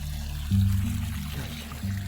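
Water pours and trickles in a Gujarat village, a close, steady flow with a few gurgling surges, heard alone.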